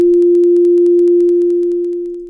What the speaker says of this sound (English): Let's go back to a standard for 40 Hz tone.